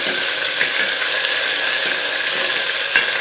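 Ginger garlic paste sizzles in hot oil with fried onion and tomato for a mutton curry. The sizzle is steady and close, with a few sharp clicks that sound like a spoon scraping the pan.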